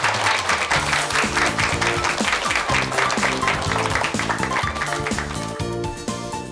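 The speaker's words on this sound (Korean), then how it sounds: "김학래 선생님께 다시 한번 큰 박수 보내주십시오." A lecture audience at a televised humor talk breaks into loud, sustained applause, dense rhythmic clapping that fills the room for several seconds and then begins to thin out near the end.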